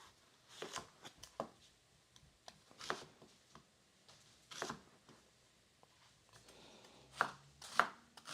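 Knife chopping food on a board while preparing quiche lorraine with squash and focaccia, a scattering of quiet, sharp taps in short irregular bursts with pauses between, a couple of louder cuts near the end.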